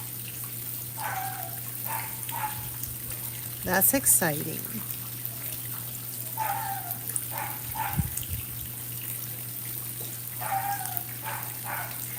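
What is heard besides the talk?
neighbor's dog barking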